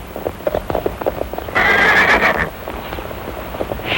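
A horse gives a loud, shrill whinny midway, surrounded by a steady clip-clop of hooves nearby.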